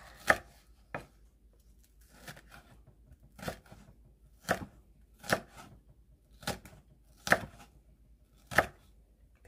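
Green and red chili peppers are chopped with a knife on a cutting board, giving sparse, crisp thuds at an uneven, unhurried rhythm, close and fairly quiet with no talking.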